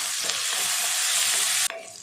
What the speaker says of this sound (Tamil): சேர்த்துட்டு நல்லா வதக்கிடலாம்.